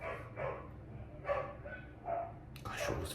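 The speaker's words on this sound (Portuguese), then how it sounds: "adoro cachorros, mas... eles latem toda hora" Dogs bark several times in short, separate bursts, fairly quiet and somewhat distant, with a final stretch of mixed noise.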